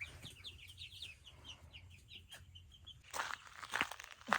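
A friendly backyard chicken clucks in quick, soft bursts close by, followed by rustling and louder shuffling noises near the end.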